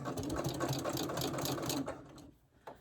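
A sewing machine fitted with a walking foot locks a short stitch on a fabric face mask, running in a steady close-up whir for most of the clip before stopping, followed by a brief faint knock.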